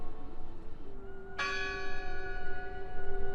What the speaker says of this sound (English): The bell's still ringing.